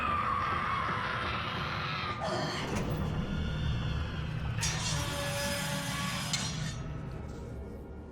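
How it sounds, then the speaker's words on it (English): A high, eerie scream rises out of a dense, reverberant ambience in the game BioShock, with metallic clinks and glassy rattles around it, a steady wash of sound throughout. "After that incredibly eerie scream"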